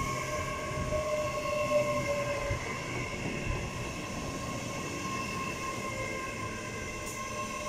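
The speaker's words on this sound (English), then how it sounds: "That is a packed train towards Western Supermare in the southwest." A packed Class 800 IET passenger train bound for Weston-super-Mare runs through Didcot Parkway station, giving a steady, loud rolling rumble with a constant high electric whine throughout, with no talk.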